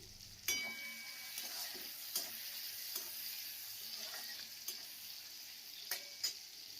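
Chopped tomato with a little salt frying in a spice tempering for a lentil-fritter curry, a quiet, steady sizzle punctuated by regular spatula taps and scrapes against the pan, close up with no talking.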